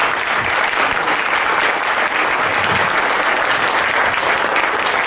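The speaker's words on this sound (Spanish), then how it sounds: "Un aplauso, por favor, a Rubén." A dense, loud round of audience applause for Rubén at a book presentation, many hands clapping steadily and evenly throughout with no voices over it.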